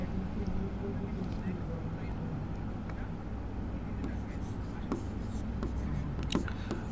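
Marker scratching on a blank slide during a Bangla grammar class, a steady soft scraping under low room hum with a few faint taps, no voice over it.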